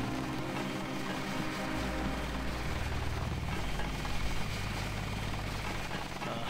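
Helicopter engine in the video game Deus Ex, a loud continuous rotor and turbine drone with a low thudding hum that holds steady throughout, no speech over it.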